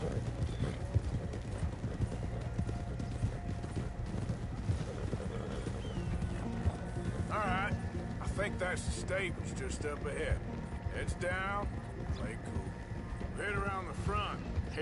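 Horse hooves clip-clop at a steady walking rhythm in the open-world western game Red Dead Redemption 2, with other game sounds around them and voices talking over the latter half.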